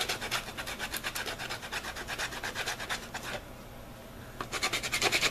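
A rubber trainer edge is rubbed back and forth on 40 grit sandpaper in steady rhythmic rasping strokes, close and continuous, with a brief pause before the scraping resumes.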